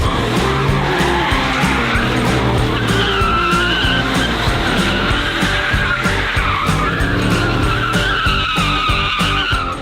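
A mini V8-powered Ford Raptor truck built for burnout competitions skids through a burnout, its tire squeal and revving engine loud and continuous with no talk.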